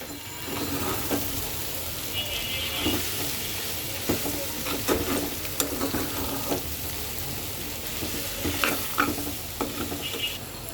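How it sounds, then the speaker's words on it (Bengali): Noodles and spice mix being stirred in a sizzling pan of mixed vegetables, with steady frying hiss under repeated scraping and clinking strokes of a utensil throughout. "মিস্টার নুডলসের মশলা এটাও সুন্দর করে মিক্সড করে দেব"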